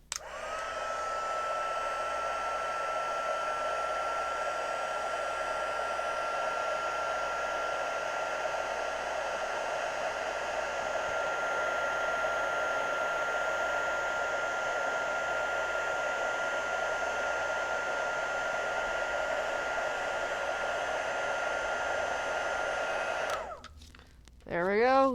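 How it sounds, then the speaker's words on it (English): A heat tool blows hot air steadily on a craft project, giving a constant close whirring hiss that runs for about 23 seconds before cutting off with a short falling whine. "Love using the heat tool."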